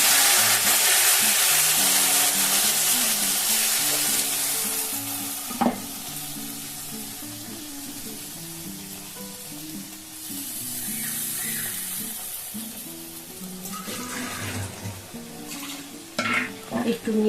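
Spice paste already fried in oil is tipped into a hot pan for a Bengali steamed egg dish, and a steady sizzle runs throughout as it is stirred, with scraping and clinks of a spoon toward the end.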